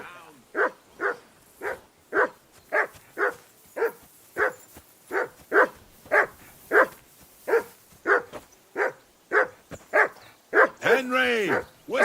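A dog in Kingdom Come Deliverance II barks repeatedly in a steady rhythm of sharp, close barks, ending with a brief whine, with voices talking now and then.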